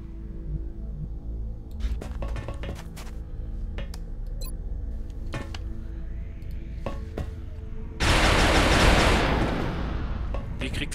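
Gunfire in the video game XCOM, several sharp game shots scattered over ambient music, followed by a loud burst of noisy blast or smoke near the end.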